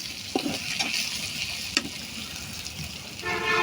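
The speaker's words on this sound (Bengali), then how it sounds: "শুটকি তেলে ভেজে নিচ্ছি তারপরে দিয়ে দেবো পেঁয়াজ রসুন" Dried fish sizzles steadily in hot oil with onion, garlic and spices, with stirring clatter and a few sharp utensil knocks against the pan, close and continuous.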